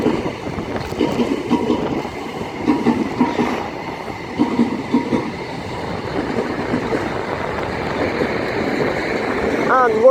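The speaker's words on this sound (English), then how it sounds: "just arriving in now is going to be the 1412 Great Western Railway service to Swansea from London Paddington" A Great Western Railway service from London Paddington to Swansea pulls into Reading station, a steady loud rumble and rolling clatter of wheels with a faint squeal rising near the end, heard up close on the platform.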